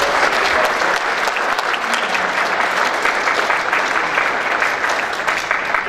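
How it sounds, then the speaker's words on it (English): An audience gives dense, sustained applause to candidates after a city council and mayoral debate, loud and steady across the whole stretch with no break. "Let's give a round of applause to our candidates."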